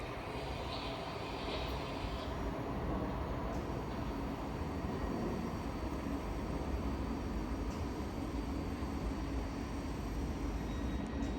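Two coupled Class 377 Thameslink electric trains stand at South Croydon station, giving off a steady, broad rumble and hum that holds evenly throughout with no talk.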